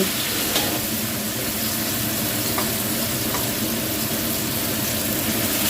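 Stink beans stir-fried with shrimp and pork in a hot pan, a steady loud sizzle with faint scraping from stirring, close up and continuous with no talking.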